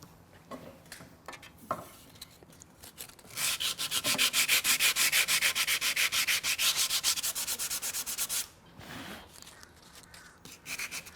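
Steady rhythmic sanding strokes rub back and forth on a bow, close and fairly loud, a fast run of repeated scrapes between quieter handling sounds, with no talk.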